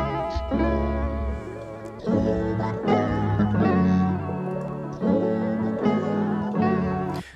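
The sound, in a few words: vocal synth made with Little Alter Boy plugin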